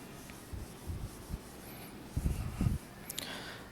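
Soft, close rubbing strokes wipe writing off a board in a few short bursts, quiet against faint room hiss.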